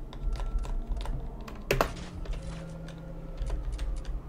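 Computer keyboard keys clack in irregular bursts with one louder clatter midway, during play of Need for Speed Most Wanted 2005 on classic keyboard settings, with no talking.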